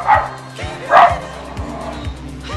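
A voice imitates a dog, yapping out a few short barks in quick succession, loud and close, with a bright burst near the middle and nothing else around it.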